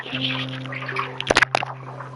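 Person urinating, a short burst of splashing and trickling liquid near the end against a steady background hum.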